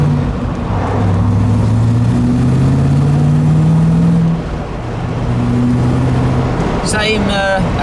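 A Morgan sports car fitted with a 3.9 V8 engine drives on the road, its loud engine note climbing and easing through gear changes from inside the car, with a brief lull midway and a rattle near the end.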